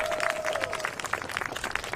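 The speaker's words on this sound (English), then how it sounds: "Let's give her a big round of applause." An outdoor crowd at a 50th anniversary celebration of a restored astronomical clock applauds to welcome a festival queen. The clapping is moderately faint, a spread of quick irregular claps over a low background hum.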